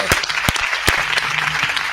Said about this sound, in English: big round of applause for Mike G